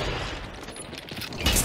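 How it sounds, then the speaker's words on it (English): Gunfire in the video game Hunt: Showdown, a dense, noisy spread of shots across a short stretch with a louder burst near the end. "I'm gonna shoot you."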